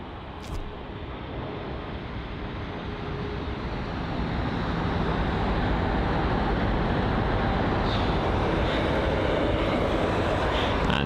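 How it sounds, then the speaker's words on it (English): A Kenya Airways Boeing 787 Dreamliner departs London Heathrow bound for Nairobi, its broad jet roar swelling from a steady rumble to a louder, fuller wash that holds near and strong for the rest of the stretch, with no talk. "you've got the Kenya Airways 7878 Dreamliner on departure"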